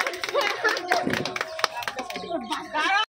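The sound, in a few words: clapping during a children's balloon game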